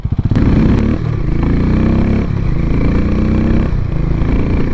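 A Harley-Davidson X440 single-cylinder engine chugs loudly and close at low revs during a slow, tight U-turn, with a steady throbbing note and small throttle swells.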